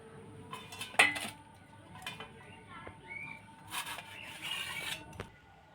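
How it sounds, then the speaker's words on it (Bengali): A knife slicing toasted bread diagonally on a board for a quick breakfast sandwich: scattered scrapes and rasps with a few metallic clinks of the blade, close and fairly quiet, with low background sounds and no clear talking. "এবারে ছুরি দিয়ে সব পাউরুটিগুলো এইভাবে কোনাকুনি কেটে নেব।"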